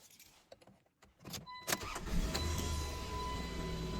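A car engine cranks and catches after a new idle air control sensor is fitted to cure a no-idle fault, a few short clicks and starter bursts giving way to a steady idle that holds loud and close to the end.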